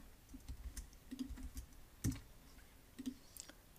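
Keystrokes on a Mac keyboard while entering a terminal command, sparse clicks in irregular bursts with a sharper thump near the middle, close and fairly quiet with no talking.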